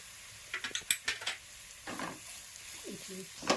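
Aloo paratha potato filling stirred in a pan, with a series of scraping spoon strokes and soft clinks against the pan over a faint background sizzle; a voice speaks briefly.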